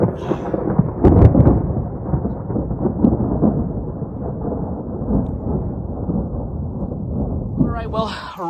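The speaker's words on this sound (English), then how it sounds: "Well, rain has begun," At a campsite, loud rolling thunder rumbles over steady rain, with a heavy crack of thunder early on and continuous downpour noise throughout.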